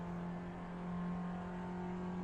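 A racing car engine in a racing video game holds a steady, droning rev with a constant whine and hum throughout, loud and alone.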